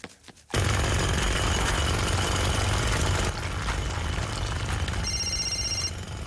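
A telephone rings in the cartoon "Ben and Holly's Little Kingdom", Queen Marigold calling, heard as a loud steady rattling ring that runs nearly continuously, with a faint tonal chime appearing near the end.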